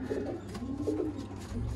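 A Ferozpuri-blood pigeon coos in low, rolling murmurs, close and steady, with no voices over it.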